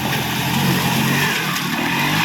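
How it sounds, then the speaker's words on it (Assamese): A tractor engine driving through floodwater, a loud, continuous motor rumble with churning water noise, close and steady throughout. "এয়া ট্ৰেক্টৰ চাওকচোন।"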